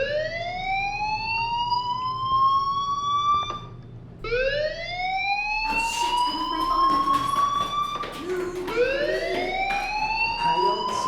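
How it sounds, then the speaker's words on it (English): Fire alarm in the video game Life is Strange: a loud electronic whoop that sweeps upward and repeats four times with short gaps, continuous and steady over a low room hum. "do you hear that fire alarm? That means you should be outside."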